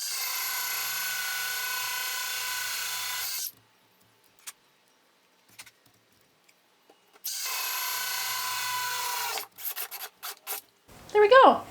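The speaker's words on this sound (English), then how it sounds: "You can see every so often I have to pull the hole saw out and clean it off a bit" A hole saw bores a doorknob hole through an interior door in two loud, steady whining bursts, separated by a quiet pause while the saw is pulled out, followed by short scraping and clattering handling noises.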